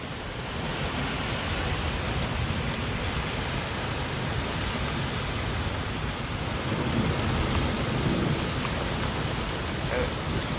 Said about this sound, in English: This is some crazy looking rain. It ain't even like rain, it's like mist.